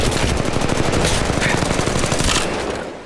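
Sustained automatic weapon fire in Apex Legends Mobile, a loud continuous rattle of rapid shots that runs for about three seconds before tapering off.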